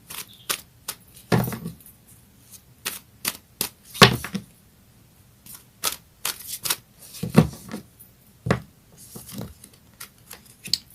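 Astrology cards shuffled and flipped by hand, with a scattered series of close, crisp snaps and riffles of varying loudness and no talking.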